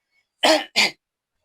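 A person gives two quick, close throat-clearing coughs in rapid succession, loud and isolated against silence.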